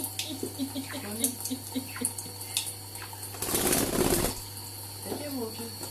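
A pet budgie bathes under a running tap in a kitchen sink, with soft chirps and wing flutters, then a burst of splashing water in the middle, while a person talks quietly nearby.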